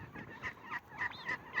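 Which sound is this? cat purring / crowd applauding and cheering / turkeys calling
turkeys calling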